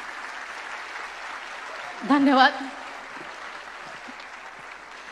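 An audience at a stage event gives sustained, even applause throughout, with one voice briefly speaking over it midway.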